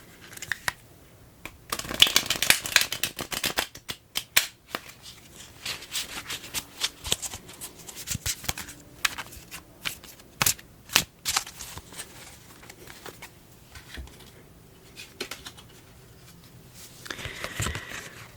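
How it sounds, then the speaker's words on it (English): Tarot cards shuffled and pulled, close crisp riffles, taps and slides in irregular bursts, quiet and intimate with no talk over them. "let's pull some cards. Pull just a couple of cards."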